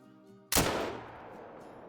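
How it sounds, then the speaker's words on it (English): A single loud 9.3 drilling rifle shot in the Call of the Hunter hunting game, fired at a whitetail deer about 250 yards away in Alberta, with a sharp crack followed by a long rolling echo that fades slowly. "Alright, well that's about a 250-yard shot."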